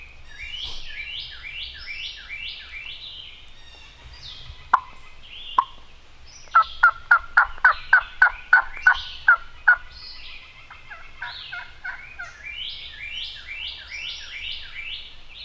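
A wild turkey gobbles at low volume, fairly faint and distant, in short rolling bursts. A rapid series of sharp calls sits in the middle and softer warbling calls come before and after, with no talk.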